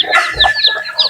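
Native chickens cluck repeatedly at close range, with short bright calls and soft clucks overlapping in an irregular rhythm; a faint steady high tone runs beneath them and no one talks.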